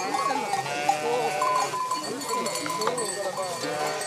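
A flock of dairy ewes herded by shepherds in the Béarn and Bigorre region, with dense overlapping bleats and a clink of bells, while people talk and call among the animals.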